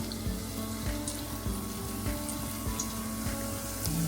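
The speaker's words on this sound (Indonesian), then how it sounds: "Sekarang saya mau goreng risolnya nih." Risoles fry in hot oil in a home kitchen, giving off a steady, dense bubbling sizzle with scattered small crackles. The sound stays fairly close and constant throughout, with no talk.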